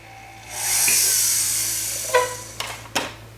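A small high-pitched drill whines steadily for a couple of seconds boring a hole into a metal tube for a gemstone setting, followed by a few short sharp clicks and taps nearby.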